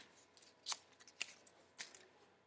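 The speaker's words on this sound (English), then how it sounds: "That's the first strip that I'm going to cut off." Scissors cut a strip of paper for a weaving craft, three or four crisp, close snips against a quiet background with faint rustling and no talk.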